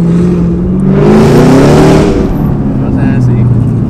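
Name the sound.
Chevrolet Camaro ZL1 engine revving in sport mode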